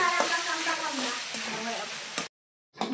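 Onion, garlic, tomato and chili frying in a pan give a steady, close sizzle with a few stirring clicks, briefly dropping to silence before the sizzle returns.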